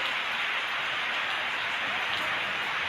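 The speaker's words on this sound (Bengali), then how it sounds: "শুরু হয়েছে বজ্রবিদ্যুৎ সহ বৃষ্টিপাত সঙ্গে বইছে ঝোড়ো হাওয়া" Rain falls steadily during a thunderstorm with gusty wind near a village temple, an even, close hiss of drops on surfaces with no thunder or voices.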